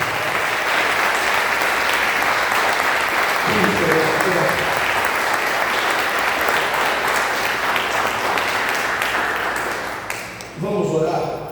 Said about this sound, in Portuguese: Vamos aplaudir a Jesus bem forte.